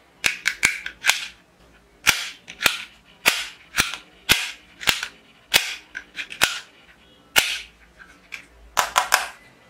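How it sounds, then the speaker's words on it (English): A small plastic toy pistol fires sharp snapping cap shots, single pops and quick doubles, at a roughly steady pace, close and loud. "Indian small plastic toy pistol"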